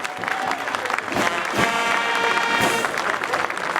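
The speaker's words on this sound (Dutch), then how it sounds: "een goed applaus voor deze bedrijven die ons ondersteund hebben" Warm crowd applause outdoors on a museum square, thanking sponsoring companies at a carnival court event, dense and steady with a few louder swells.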